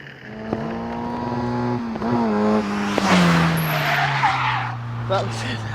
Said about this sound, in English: he's having a bit of fun in the Caterham Superlight there